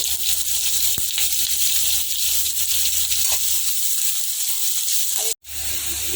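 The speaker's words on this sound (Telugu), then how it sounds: "ఉల్లిపాయలు ఫ్రై అవుతున్నాయండి" Steady, loud sizzling of onions and green chillies frying in hot tempering oil, a continuous crackling hiss that briefly cuts out near the end.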